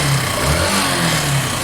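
A Yamaha Factor 150 motorcycle engine runs with its stator plug disconnected, a steady close engine drone with low rumble and no clear change in pitch.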